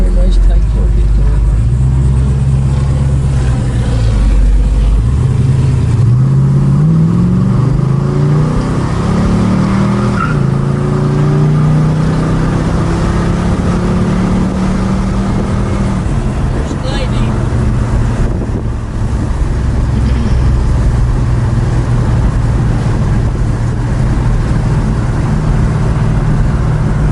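1971 Plymouth GTX engine revving loudly and up close, rising and falling through several pulls with steady low rumble and wind buffeting, while someone talks over it.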